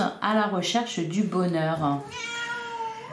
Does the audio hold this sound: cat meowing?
yes